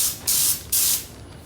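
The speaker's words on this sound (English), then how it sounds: "So let me just finish and spray the etching primer." Two short bursts of an aerosol spray can laying etching primer on a Ford F-150 truck, bright hissing puffs close by, each lasting about a quarter second with a brief pause between.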